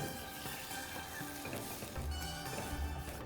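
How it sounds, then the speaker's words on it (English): Meat for bhuna gosht searing in a cooking pot, a dense, steady sizzle with low bubbling and occasional stirring clatter, close up and continuous. "And then sear it again."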